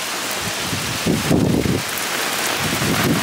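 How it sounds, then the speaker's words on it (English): Heavy rain pours down hard in a steady loud roar, with deeper rumbling surges swelling through the middle and again near the end, and no voices. "It is raining super hard."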